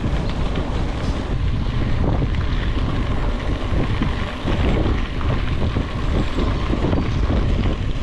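Loud, blustery wind buffets the microphone continuously, a dense roaring rumble that barely lets up, while mountain biking fast with a tailwind through woods.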